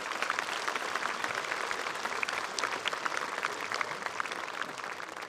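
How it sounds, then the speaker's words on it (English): A graduation ceremony audience claps steadily, a dense, even wash of applause heard at a moderate distance with no voices over it. "if you could give them a round of applause."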